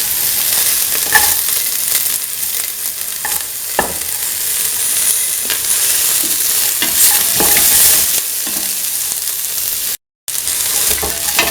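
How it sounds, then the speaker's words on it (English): Onions, shallots, garlic and ginger sautéing in hot oil in a pan, a continuous loud sizzle with occasional spatula scrapes and stirs, one brief dropout near the end, no talk. "Keep on sauteing."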